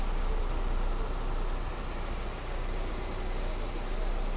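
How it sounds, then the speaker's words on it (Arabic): Kia Cerato 2019 with a 2.0-litre four-cylinder engine running steadily, a continuous broadband engine hum heard close up with no breaks. "وبوريكم الماكينة، الماكينة طبعا 4 سلندر، و اللي معنا هذه مكينة الـ2000"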